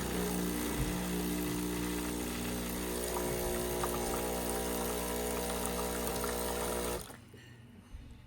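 A Breville espresso machine dispenses hot water with a steady pump hum and a soft rushing flow for about seven seconds, then stops abruptly, leaving near silence.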